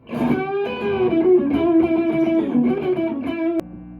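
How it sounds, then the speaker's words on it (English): Electric guitar played through two or three stacked overdrive pedals, a loud sustained crunchy melodic line with bent notes, cut off sharply near the end leaving a faint hum. "When I play with overdrive, I normally stack drives."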